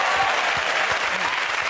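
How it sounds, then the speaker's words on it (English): Studio audience of a TV comedy panel show breaking into loud, dense applause, a steady wall of clapping filling the whole brief moment. "Let us applaud him."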